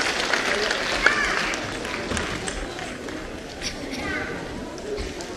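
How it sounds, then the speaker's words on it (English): Applause from an audience at a state-level competition for grand master winners, dense clapping under a loud, busy room with voices mixed in. "Huge round of applause."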